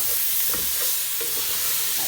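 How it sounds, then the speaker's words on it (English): Tomatoes, aubergine and potato are stirred in a hot pan, a constant loud sizzle overlaid with soft scraping strokes of the spoon, heard up close with no voices. "Right, give that all a good mix."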